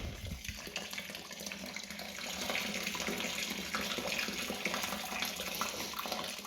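Hot tap water pouring continuously into a home-brewing vessel while making a batch of lager, a steady rushing splash that grows fuller after a couple of seconds, close up with no talking.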